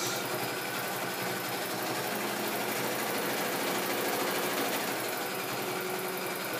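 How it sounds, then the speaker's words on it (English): A sewing machine back stitching runs steadily with a fast, buzzing mechanical whir, close and continuous, with no talking. "I always like to back stitch to secure the stitch."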